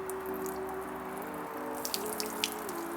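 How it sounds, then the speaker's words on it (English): Water being poured and dripping out of a flooded headlight housing from a 1995 Toyota Celica, with steady close trickles and scattered drips over a faint constant hum. "I couldn't see anything, so I just dumped the water out."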